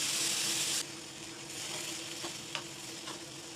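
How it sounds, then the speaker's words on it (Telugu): Tomato paste fries in a pan with curry leaves and ginger paste for a prawn curry, giving a close, steady sizzle that starts with a louder hiss and continues under occasional stirring scrapes. "టమాటో పేస్ట్ వేస్తున్నానండి,"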